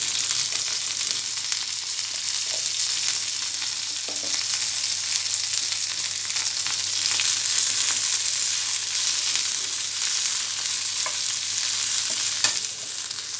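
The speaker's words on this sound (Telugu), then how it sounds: "ఎండుమిర్చి ఫ్రై చేసుకున్న ఇదే ఆయిల్లో గోంగూర వేసుకోవాలి." Gongura leaves fry in hot oil in a pan, giving a continuous loud sizzling hiss with faint stirring ticks throughout. No voices are heard.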